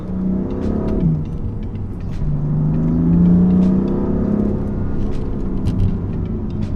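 A BMW M4 accelerates hard, its engine rising in pitch, briefly dipping as it shifts, then revving up again. The engine drone is loud and close, with light road noise and no talk.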